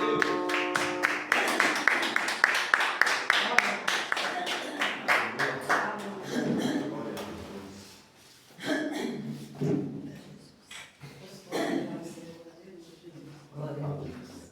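Church congregation clapping together during a worship service, a brisk rhythmic run of claps for several seconds that fades into voices praising, with scattered claps continuing under speech.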